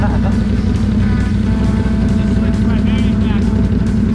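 A loud, deep engine rumble holds steady throughout, close by, with a throaty exhaust drone and no change in pace.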